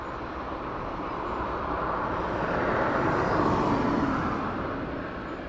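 Distant aircraft rotating on takeoff at East Midlands Airport at night, a broad engine roar swelling gradually to a peak and easing slightly, steady with no voices.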